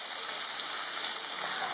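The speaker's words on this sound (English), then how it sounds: "Now it's time to add the onions. Cook till the onions are a bit brown." Onions sizzle steadily in hot oil in a pan, cooked for a spicy mushroom biryani after fennel seeds; an even, close, continuous frying hiss with no talk.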